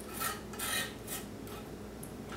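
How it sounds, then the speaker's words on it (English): A palette knife scraping paint down on a cross painting, several faint, soft rasping strokes close by, spaced about half a second apart. "just kind of scrape it down, just using my palette knife"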